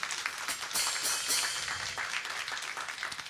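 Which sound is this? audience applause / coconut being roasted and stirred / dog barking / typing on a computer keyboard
audience applause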